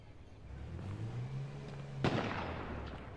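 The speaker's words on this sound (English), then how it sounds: "It's an M40 cracking" A single sharp M40 sniper rifle shot cracks in the H1Z1 battle royale game, cutting through a steady low engine hum and then trailing off.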